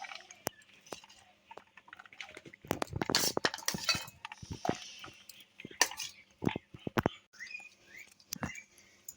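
Kurkure snack being arranged on plates, with sharp clinks of a spoon and plates and crinkly rustling scattered irregularly across the scene, close and moderately loud, without speech.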